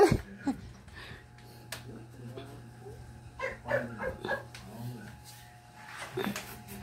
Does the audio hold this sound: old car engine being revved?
no